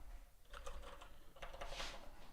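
Quiet typing on a computer keyboard comes as two short clusters of soft key clicks separated by a brief pause.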